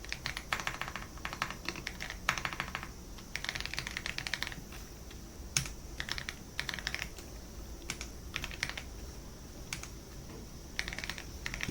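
Computer keyboard keys clattering in quick bursts of typing as a table is entered into an Excel spreadsheet, close and fairly quiet, with brief pauses between runs of keystrokes.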